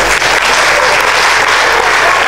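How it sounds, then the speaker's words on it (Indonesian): An audience of new students claps loudly and continuously at a campus orientation event, a dense, close crowd of hands with no talking over it. "Tepuk tangan teman-teman."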